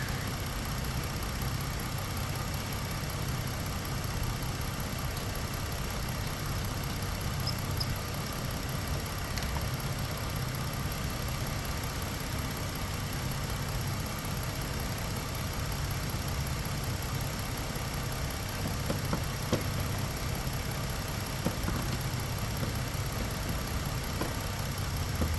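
Car engine idling in a steady, even rumble that holds for the whole stretch, with faint ticks and small fluctuations but no revving.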